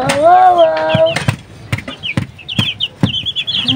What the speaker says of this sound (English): Wow, amazing, beautiful chicken.